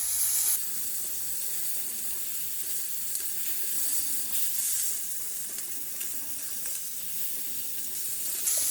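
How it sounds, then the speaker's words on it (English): A thick steak sears in a hot pan, giving a steady, close broadband sizzle that holds evenly for about nine seconds with small crackles and no talk. "So after you sear both sides, you just want to keep on flipping it as often as possible to not overcook one side."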